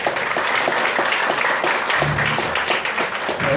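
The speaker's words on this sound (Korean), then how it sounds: "우리 두 패널분께 감사 박수 한번" Audience applause at the close of a church discussion forum thanking two panelists: sustained, fairly loud clapping from a room of people, steady throughout.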